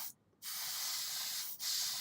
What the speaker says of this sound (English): the reason why I'm spraying it like that is because this is actually all glued in place